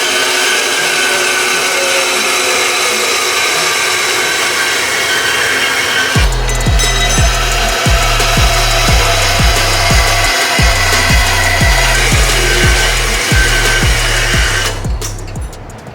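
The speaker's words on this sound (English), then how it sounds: "I just got some 3-inch stainless we're gonna cut up and see if we can get that connected." A saw blade cuts through 3-inch stainless steel tubing, a loud steady grinding roar running throughout with repeated rhythmic pulses in the second half before easing off near the end.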